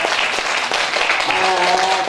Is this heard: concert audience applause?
yes